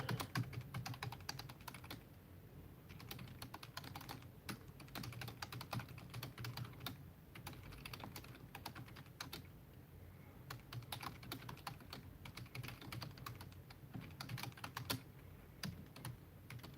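A computer keyboard clatters with steady typing, a continuous run of quick, soft keystrokes that sounds close and fairly quiet, with no speech.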